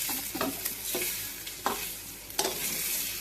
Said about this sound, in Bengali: এখন একটু হালকা করে এভাবে নেড়ে চেড়ে নিতে হবে